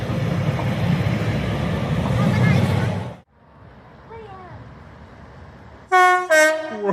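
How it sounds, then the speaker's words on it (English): At Motherwell Railway Station, a train rumbles loudly, then fades to quiet. Two loud, close train horn blasts follow at the end. "Whoa, that's a good horn."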